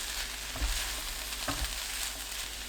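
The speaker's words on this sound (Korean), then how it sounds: "펼쳐두었다 섞는 방법으로 3분 더 볶아주세요." Sliced Korean zucchini stir-frying in a pan over medium heat, a steady close sizzle with a couple of brief scraping stirs against the pan bottom.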